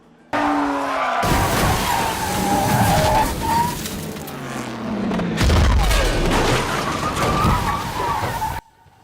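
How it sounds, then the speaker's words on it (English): Race car crash in the film Ford v Ferrari: a loud burst of tearing metal, skidding and booming impacts that runs for about eight seconds, with a brief lull midway before a second heavy surge, then sudden silence. "how crazy these car crashes can be"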